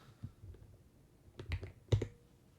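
A few sharp computer clicks sound close and quiet, with a soft tap near the start and two brighter clicks around the middle and end, separated by near silence and no talk.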